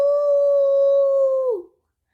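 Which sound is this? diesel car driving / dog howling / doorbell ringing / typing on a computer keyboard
dog howling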